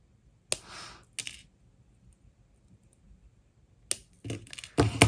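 Wire ends being snipped off the back of a wire-wrapped pumpkin pendant with cutters, giving a few sharp, close clicks separated by quiet gaps, then a quick cluster of snips near the end.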